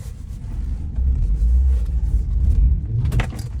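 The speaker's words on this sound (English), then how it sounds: "Okay, let's go for a ride. Okay, here we go. Putting it into drive." Matrix Nexa enclosed mobility scooter pulling away at night, a steady low motor rumble rising slightly as it gets moving, close and continuous with no talking.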